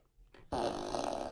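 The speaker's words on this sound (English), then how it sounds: "Fart machine." Fart machine sound effect: a brief low sputter, then a loud, sustained buzzing blast of about a second that cuts off abruptly, played alone and close.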